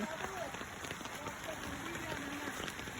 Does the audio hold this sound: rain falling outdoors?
yes